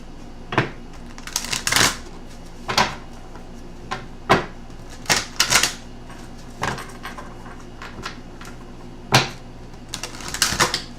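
Guidance cards being shuffled and pulled from a deck in short, papery riffling bursts with soft slaps between them, close up and fairly loud, spaced unevenly over several seconds.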